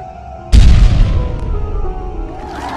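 A cartoon explosion set off by a bomb character, heard as one sudden, loud, deep boom that rumbles on and slowly fades over the next two seconds.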